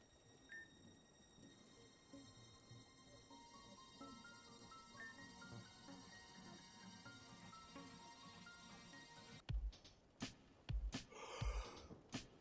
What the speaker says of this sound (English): gotta get that yawn out of me.